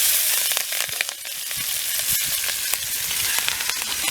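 Green chillies hiss and crackle in hot oil with mustard seeds, cinnamon and cloves: a dense, continuous sizzle dotted with sharp pops, close and alone.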